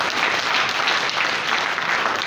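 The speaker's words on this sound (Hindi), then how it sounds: "तालियां बनती हुई जोर से।" An audience at a Lions Club regional convention applauds loudly and steadily, a dense continuous clapping that fills the whole moment.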